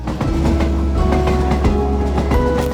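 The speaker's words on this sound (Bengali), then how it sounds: "এই সেই নতুন ট্রেন কক্সবাজার এক্সপ্রেস" The Cox's Bazar Express, a new passenger train in Bangladesh, rumbles loudly along the rails with a steady rhythmic clatter and droning hum, heard up close and continuous throughout.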